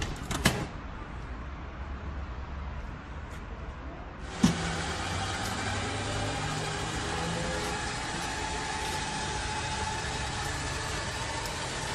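A BMW Vision M Next concept car's engine hums steadily in the mid-range after a sharp onset partway through, continuing at a moderate level to the end.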